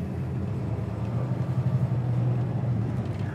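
A 1972 Dodge Demon engine runs at a steady low rumble as the car goes into gear, close and fairly loud, with no talking.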